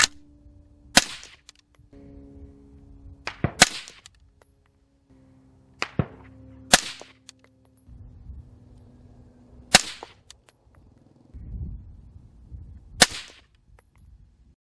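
Five sharp, loud suppressed shots from an AR-15 with a 12.5-inch barrel in 5.56, fired through a Saker 762 suppressor fitted with a 5.56 end cap, each crack spaced a few seconds apart outdoors.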